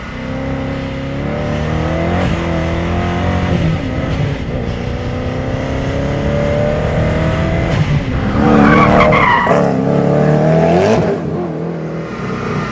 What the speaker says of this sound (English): there's so much noise and so much drama going on in this car